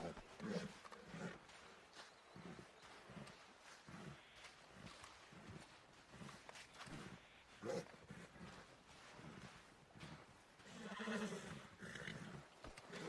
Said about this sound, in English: Aí, cavalo.